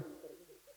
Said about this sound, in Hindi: ये चिड़िया कहां से बोल रही है